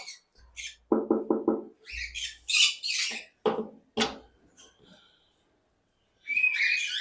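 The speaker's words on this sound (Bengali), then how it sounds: "এইখানে নিচে আছে এক জোড়া সাদা কোকাটেল" Loud, harsh squawks from a white cockatiel in a quick burst of four, followed by scattered shrill calls and a final sustained screech, close by.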